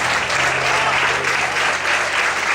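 A church congregation applauds loudly, a dense, steady wash of clapping from many hands with no pauses, filling the room at a consistent level throughout.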